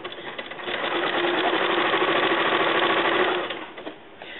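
Sewing machine running steadily while stitching down quilt binding, a close, even mechanical whir that starts, holds for a few seconds and then slows to a stop.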